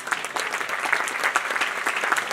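Loud, dense applause from a ceremony crowd honouring tabla maestro Ustad Zakir Hussain at his Padma Vibhushan award event, steady clapping throughout with no talk.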